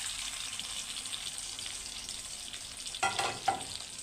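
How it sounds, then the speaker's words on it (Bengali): Shrimp frying in hot oil with bay leaf in a pan, a steady bright sizzle that swells with a couple of louder bursts as more goes in, close and continuous, no talking. "তারপর এখন চিংড়ি মাছ ঢেলে দিব।"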